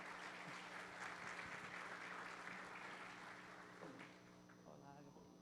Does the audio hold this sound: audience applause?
yes